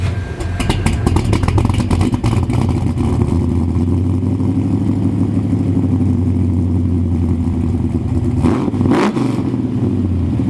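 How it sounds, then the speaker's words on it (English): 1969 Chevelle SS Big Block V8 rumbling through stainless X-piped Borla mufflers, a loud steady low burble with a rev rising and falling near the end. "we love the sound of a rumbling Big Block through the stainless,"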